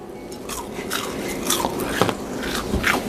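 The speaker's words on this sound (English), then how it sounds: "I swear I don't chew like that." A person bites and chews food close to the mic, with a series of wet, crunchy chomps at irregular intervals, loud and clear with no talking.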